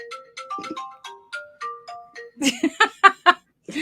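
A phone ringtone plays a bright melodic run of tones, followed by a few sharper chiming notes, heard close during a casual knitting chat at home.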